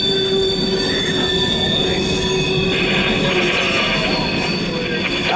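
A CSX mixed freight train rolls past close by, its wheels squealing in a steady high whine over the continuous rumble of the cars.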